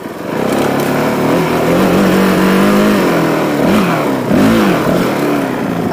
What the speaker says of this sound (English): My gear too low, but it makes the engine all growly.